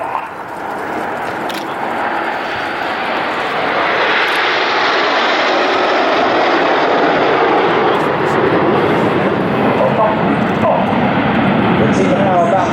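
Red Arrows jets fly in formation at the 2014 Farnborough air show, a loud, steady, broad jet roar that builds and holds throughout, with an announcer's voice under it.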